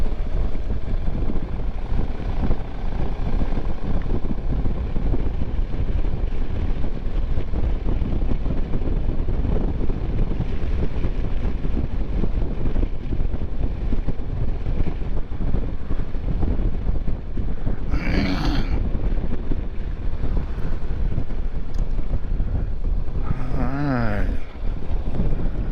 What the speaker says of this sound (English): This bike's just chugging along now